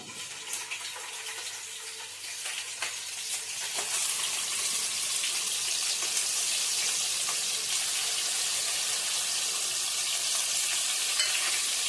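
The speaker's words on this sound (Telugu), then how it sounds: "వేగుతుంది అనమాట ఉల్లిపాయ" Onion paste fries in a generous amount of oil for a crab curry, a steady close sizzle that grows slightly louder and denser, with occasional faint stirring clicks.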